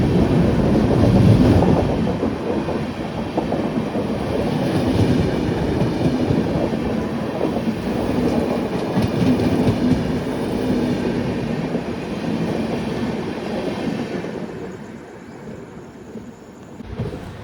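A crowded passenger train nearing Solapur on the Mantralayam to Bagalkote route rumbles along the tracks, heard from inside as a loud, continuous roar with rhythmic clatter that eases slightly toward the end as it slows.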